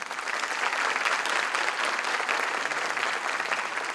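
A concert audience applauds to welcome the Azerbaijani Cultural Association's choir onto the stage, dense, steady clapping from many hands filling the hall without a break.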